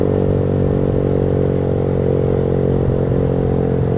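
Close and loud, a street motorcycle with a racing knalpot brong exhaust holds a heavy, even rumble with slight rattling texture, continuous throughout.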